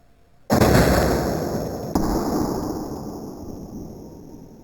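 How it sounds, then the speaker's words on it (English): A cocked crossbow fires once with a sharp, loud crack of the string and limbs, followed by a long decaying ring and a second small click partway through, with no talking. "Alright, so now the weapon is cocked and ready to be shot."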